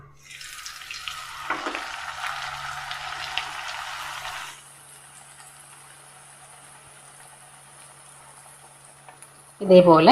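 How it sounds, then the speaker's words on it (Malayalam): Oil bubbles and sizzles loudly for a few seconds as puris begin frying, then settles to a faint hiss, ending with a sudden sharp clatter. "ബൂരി പൊരിക്കാനായിട്ട് ഒരല്പം എണ്ണയാണ് നമ്മൾ ചൂടാവാനായിട്ട് വെച്ചിട്ടുള്ളത്"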